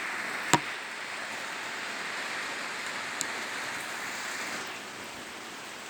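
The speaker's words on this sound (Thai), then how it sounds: "อยู่บ้านครับฝนตกอยู่บ้านไม่ได้ไปไหน" Steady, soft rain patter fills the air, broadband and constant, with one or two brief sharp drips or taps standing out early on.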